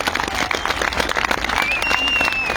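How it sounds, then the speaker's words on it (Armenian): At an outdoor political rally in Shirak, Armenia, a crowd applauds steadily, the dense clapping rising slightly in the second half. A voice carries faintly underneath. "Ես ուզում եմ, որ շիրակցիները ծափահարեն հանրապետության տարբեր տարածքներից եկած մեր"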